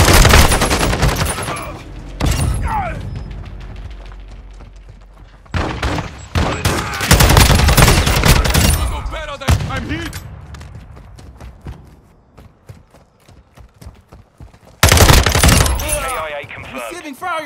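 Heavy gunfire from Call of Duty: Modern Warfare II, loud repeated bursts and volleys with brief gaps, voices calling out over the shooting and one last burst near the end.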